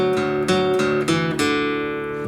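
A guitar riff, with several plucked notes in a loose rhythm ringing into one another, played close and clear with no talking.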